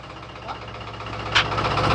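A large tractor's diesel engine idles nearby with a low, steady knocking rumble, plus a brief sharp clank partway through.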